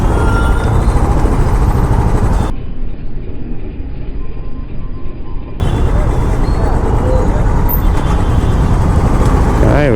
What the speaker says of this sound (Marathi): काय एवढं ट्रॅफिक आहे